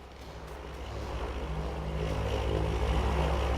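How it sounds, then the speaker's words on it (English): In a farming simulator game, a low droning engine builds steadily and grows louder, a propeller plane passing low overhead, with no one speaking. "there's a low-flying plane"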